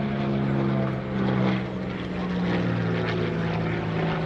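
Beechcraft T-34 Mentor propeller airplanes at an airshow, a steady loud droning engine and airscrew hum that holds constant with slight swells throughout.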